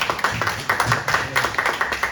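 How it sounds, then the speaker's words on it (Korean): A youth congregation at a middle-school church service claps for the minister who organized their retreat. The clapping is fairly close, loose and rhythmic, in a string of uneven bursts. "수고해 주신 전도사님께 한번 박수 한번"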